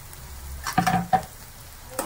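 Garlic and chopped ginger hit a little hot oil in a pan, giving a soft sizzle broken by a few short crackling bursts and stirring scrapes, with no voices.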